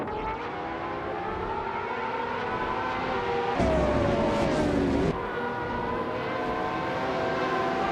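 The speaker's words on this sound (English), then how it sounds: "the race just kicked off at Spa and Jambo is starting strong on pole, driving the 2015 Ferrari FXK" Race cars launch at the start of a race at Spa, led by a 2015 Ferrari FXK, a steady loud engine drone with a rising whine swelling briefly in the middle, no talk.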